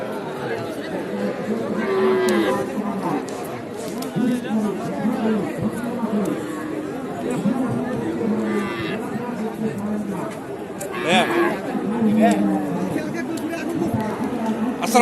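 Young bulls and calves low at a busy rural cattle market, their deep moos repeating over a steady bed of crowd chatter, with people talking nearby throughout.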